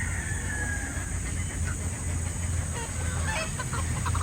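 Young roosters (stags) in a rain-soaked farm yard cluck softly and intermittently, partly masked by steady, loud broadband rain or wind noise.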